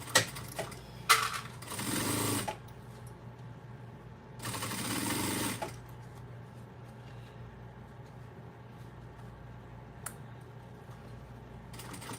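Domestic sewing machine stitching slowly through thick vinyl and canvas on a pencil pouch: two bursts of motor whir and needle chatter, separated by quiet gaps with a few light clicks and handling noises, fairly soft and close.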